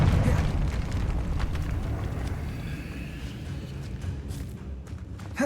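A Confringo fire spell from Hogwarts Legacy erupts in a loud, deep explosive burst that slowly rumbles away, with a small pop near the end.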